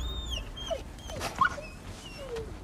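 Wolves in God of War Ragnarök whimper and whine in a run of short, high, wavering cries, fairly close and moderately loud over a low background rumble.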